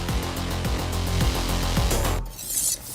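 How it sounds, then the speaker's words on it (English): Dinner being cooked in a home kitchen comes through as loud, close, rhythmic scraping and rubbing, like a utensil worked against a pan, repeating steadily before easing into a softer hiss, with no one talking. "This is the sound of Claire, cooking dinner at home"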